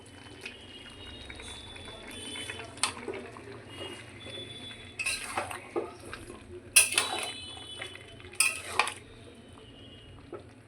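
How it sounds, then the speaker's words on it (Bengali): Chicken do pyaza being stirred in a pot, scattered metallic scrapes and clinks of a spoon against the vessel with a few louder knocks toward the end, close over a low background hum. "এবার আমি একটু নেড়ে নেব।"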